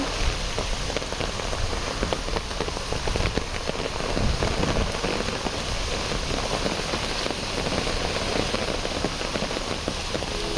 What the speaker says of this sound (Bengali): প্রচুর বাতাস আর প্রচুর বৃষ্টি